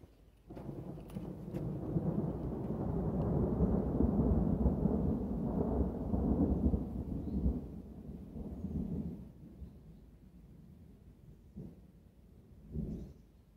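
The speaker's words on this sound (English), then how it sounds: "There was the loudest crack of thunder just now." A long roll of thunder during a storm, rumbling heavily and swelling to a peak before slowly fading, followed by a couple of smaller distant grumbles.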